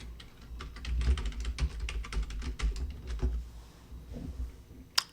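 Quick, uneven clatter of keys on a computer keyboard as a password is typed, close and fairly loud with no talking, ending in one sharp louder keystroke.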